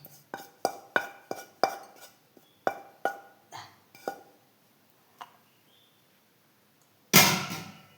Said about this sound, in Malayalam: എല്ലാം ഇതിൻ്റെ അകത്തേക്ക് ആക്കി എന്നിട്ട് എല്ലാം കൂടി മിക്സ് ചെയ്യണം